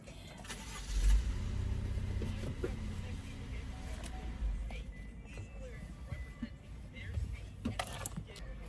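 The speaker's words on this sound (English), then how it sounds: "Somebody's parking right next to me." A car pulls up and parks right beside a parked car, its engine a low rumble with thumps and shifting noise, faint and muffled from inside the vehicle, while a person talks at times.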